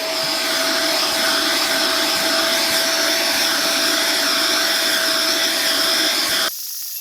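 A UWANT B100E fabric cleaner runs steadily and loudly while cleaning an entrance rug, a continuous suction whine with a faint tonal hum, cutting off abruptly near the end to leave a quieter background hiss.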